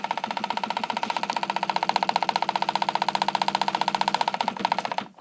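A faulty electric motor runs roughly, giving off smoke, with a loud, steady, fast rhythmic pulsing buzz and rattling vibration that holds for about five seconds before cutting off.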